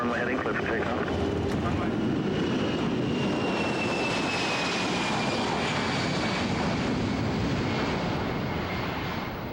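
A Northwest Airlines heavy jumbo jet taking off from the runway, a loud continuous engine roar with a rising whine heard close and without a break throughout.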